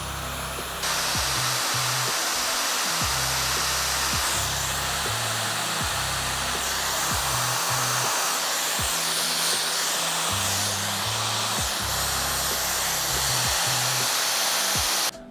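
A hair dryer blows steadily and loudly for the whole stretch while hair is blow-dried after a razor haircut, its airflow shifting slightly as it moves around the head.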